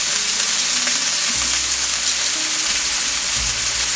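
Chicken roulade seasoned with pepper, rosemary and thyme sears in a very hot pan, giving a loud, steady, close sizzle that runs unbroken with no voices.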